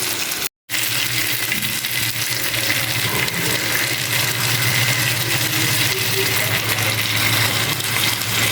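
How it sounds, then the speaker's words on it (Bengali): Water pours steadily into a pan of cooking bottle gourd in a home kitchen, a continuous close gushing splash that runs unbroken for several seconds after a brief cut. "এখন হালকা জল দিয়ে রান্না করে নেব।"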